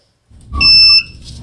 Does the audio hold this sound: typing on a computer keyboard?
no